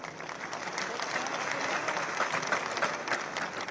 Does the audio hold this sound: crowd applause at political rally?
yes